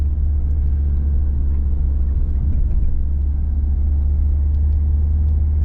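Ford Sierra 2.0i Ghia driving on the road, heard from inside as a loud, steady low engine and road rumble that continues without a break.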